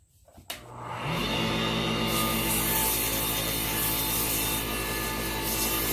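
Wood lathe spinning up with a low hum, then a continuous loud rubbing rasp of sandpaper against a ferro rod handle, steady and close with no talk.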